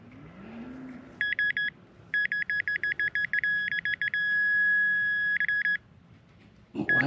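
Repeated electronic beeps from a Nokta Legend metal detector that is malfunctioning and blanking out in the field, sounding as short clustered bursts and then one sustained tone, near and loud over faint outdoor background.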